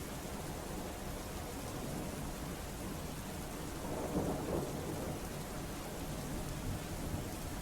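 Heavy rain during a strong windstorm on the Naliya highway area, a dense, constant roar of downpour and gusting wind filling the whole clip with a slight swell midway.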